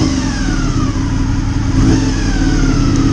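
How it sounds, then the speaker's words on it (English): A Honda VFR400 motorcycle engine, recently revived after sitting unused, idles loudly and rises briefly with a light touch of throttle, its steady rumble swelling then settling, with no voices. "Little touch of throttle, perhaps."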